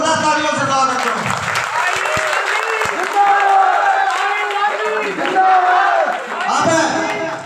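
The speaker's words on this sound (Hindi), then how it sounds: "जोरदार तालियों से स्वागत करो।" A village rally crowd applauds loudly in a welcome, steady clapping running throughout under shouting voices and cheers.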